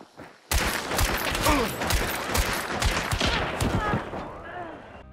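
Rapid fire from a Winfield 1873 lever-action rifle in Hunt: Showdown, with dense overlapping loud shots and clattering lever action amid a chaotic gunfight.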